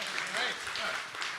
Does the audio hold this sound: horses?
no